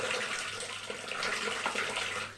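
Water rinsed from a yogurt bowl pours into a cooking pot in a steady, gentle stream that lasts the whole moment, with no voices over it.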